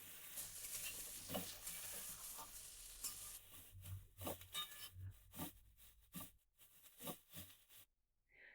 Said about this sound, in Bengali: এবার আমি দিয়ে দিচ্ছি ওলগুলো। ওলগুলো একটু 1 মিনিট মতন ভেজে নেবে।